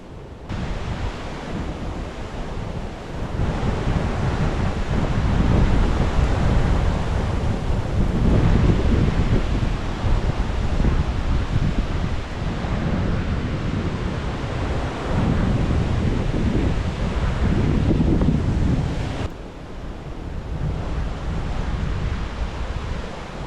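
Strong wind gusting across snowy Victorian high country at a solo winter camp, a loud, continuous broadband roar that swells and eases, with a brief lull near the end.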